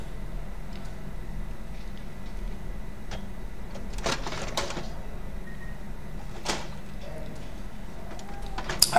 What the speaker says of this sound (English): I change the toner.